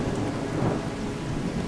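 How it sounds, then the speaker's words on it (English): Heavy rain pours steadily in Fallout 4, a dense continuous hiss and patter with low rumbling beneath, even and unbroken throughout. "It's still raining pretty hard"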